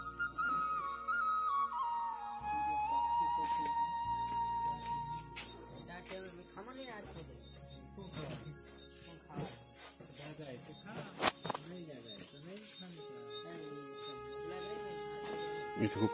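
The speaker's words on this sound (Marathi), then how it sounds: "इथे खूप किडे आहेत आणि बेटके आहेत." Insects chirp steadily in the Shoolpani forest along the Narmada, a dense layered high trill with whistle-like tones, moderately loud and continuous throughout.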